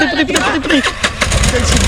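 A motorcycle engine starts up and rumbles under loud, excited talk from several people.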